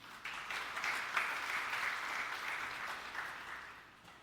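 A church congregation applauding in praise, a sustained wash of many hands clapping at moderate distance that swells and then gradually fades.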